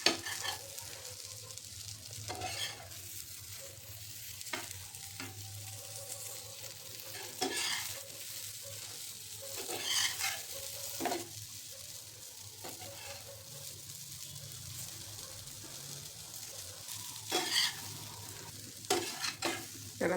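Stuffed bitter gourd (karela) frying in masala in a pan, a steady soft sizzle with repeated scraping stirs throughout, fairly quiet and close.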